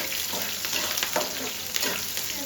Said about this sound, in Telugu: కొంచెం వేగనిద్దాము ఉల్లిపాయలు